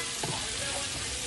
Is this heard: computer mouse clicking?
no